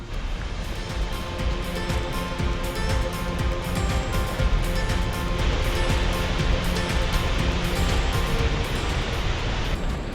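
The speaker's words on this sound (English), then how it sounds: "So beautiful waterfall." Waterfall at Silver Falls State Park gives a steady, loud, broadband rushing roar that holds without a break for about ten seconds.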